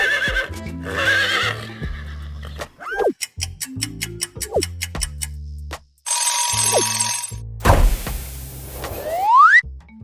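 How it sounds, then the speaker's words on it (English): Horse neighing in a loud, shrill whinny with sharp rising and falling pitch, set among a busy run of other sounds, including ringing tones and rapid clip-clop-like beats, with no talk. "It's a horse. Horse. Neigh, neigh."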